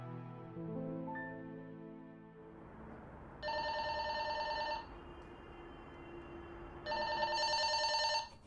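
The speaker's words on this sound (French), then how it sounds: "Maman, téléphone!" A telephone rings in a home, two long bursts of bright electronic ringing separated by a pause, loud and close, following a stretch of soft background music.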